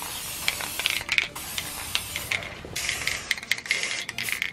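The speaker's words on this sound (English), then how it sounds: "That's enough spray painting stuff." Aerosol spray paint hisses in quick, close bursts of uneven length, with a faint rattle between sprays and no talking.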